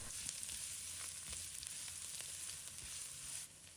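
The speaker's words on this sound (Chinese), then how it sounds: "倒入食用油，把蒜末放入锅中，翻炒一下" Minced garlic sizzles in hot cooking oil in a heated wok as it is stir-fried, a continuous, even hiss with faint scraping from the stirring, heard close up and quite soft, with no voices.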